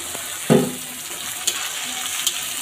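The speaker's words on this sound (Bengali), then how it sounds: "এবারে দিয়ে দিচ্ছি টমেটো কুচি আর কাঁচা লঙ্কা চেরা।" Chopped tomato and slit green chillies frying in a pan with onion, garlic, cardamom and cumin: a steady sizzle with a loud knock of the pan at the start and a few sharp spatters.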